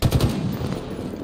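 A quick machine-gun burst from Halo Infinite hits hard as three or four rapid punchy shots, then gives way to a lower, steady gunfire rumble in the background.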